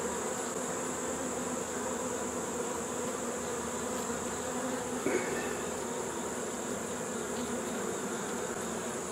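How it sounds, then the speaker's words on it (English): Honeybees buzz densely around an opened hive during a frame inspection, a steady continuous drone close by with no talking. "These bees flying around."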